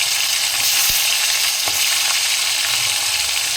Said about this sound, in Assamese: 2-3টা শুকান জলকীয়া দিছোঁ। এতিয়া মই ফ্ৰাই কৰিম।